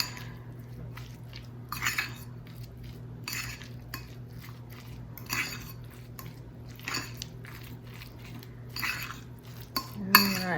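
Spoon scraping and clinking in a bowl as mayonnaise is mixed into canned chicken salad, soft irregular stirring taps and squishes over a steady low hum, fairly quiet with a sharper clink near the end.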